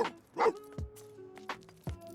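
A pet dog in The Sims 4 lets out several short, bright barks and yips spaced across a couple of seconds, fairly close and clear with game ambience around them.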